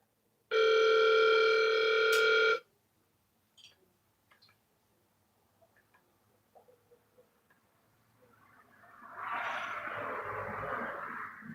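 A steady telephone dial tone sounds loud and alone for about two seconds, then cuts off, leaving faint clicks and ticks before a broad rushing noise rises toward the end.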